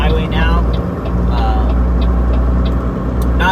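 Semi truck merging onto a quiet Sunday highway, low engine drone and road rumble steady and close inside the cab, with someone talking over it.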